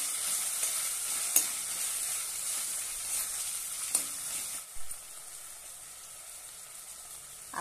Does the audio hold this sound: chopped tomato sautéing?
yes